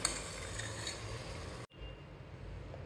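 Mutton pieces for a curry are stirred in a pot: a spoon scrapes and clinks against the metal over a low, steady sizzle, with a momentary break partway through.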